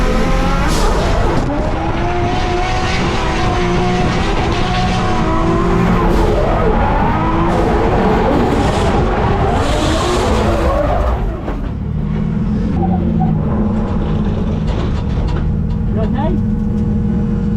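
A drift car runs a track with engine roar and wavering tire squeal during a long slide at close range, with talk over it throughout. The squeal eases around the middle before the engine settles to a steadier drone.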